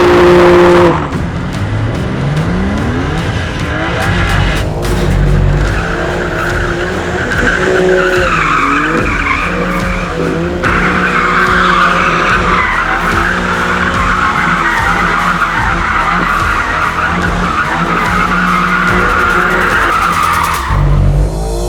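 A 2021 BMW M3 or M4 Competition skids around Thruxton circuit, with long loud tyre squeals, a revving engine surging and falling, and the car sliding close by for about twenty seconds.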